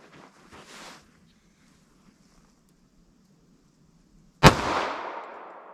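A single sharp .45 ACP pistol shot firing a Black Hills semi-wadcutter round outdoors, one loud crack followed by a decaying echo, after a few seconds of faint wind and quiet.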